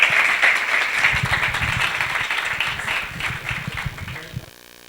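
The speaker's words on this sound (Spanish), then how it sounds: "Por favor, un fuerte aplauso para él." An audience at a conference on the fourth industrial revolution applauds a presenter with steady, full clapping that holds for several seconds, then fades out abruptly into near silence.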